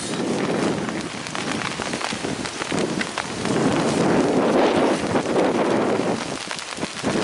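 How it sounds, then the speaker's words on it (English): Heavy rain pours down steadily during an outdoor cricket match, a dense, loud hiss of drops with gusts of wind and swelling intensity throughout. "The rain is coming down, it is quite heavy"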